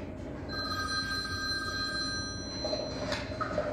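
A telephone bell rings with a sustained metallic trill over a low background hum, followed by a brief gap and the start of another ring.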